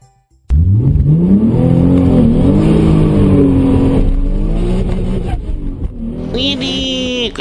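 A remote control toy car drives and climbs, its electric motor whining loudly and close, rising and falling in pitch as it speeds up and strains, ending in a higher buzzing whir.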